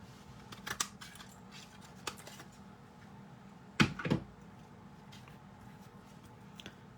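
A paper punch cuts silver foil for a card, two quick close crunching snaps near the middle amid faint handling rustles and light taps.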